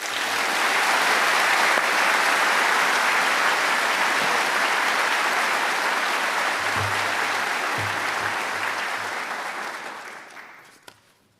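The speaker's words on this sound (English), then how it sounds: "please join me in a round of applause for Cadet Chen" Sustained applause from a large audience at a West Point military graduation ceremony, steady and dense for about ten seconds before tapering off, with no one speaking over it.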